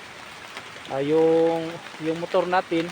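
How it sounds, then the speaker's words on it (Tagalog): Heavy rain falls as a constant broadband hiss, with a person talking briefly over it. "sobrang lakas ng ulan dito guys"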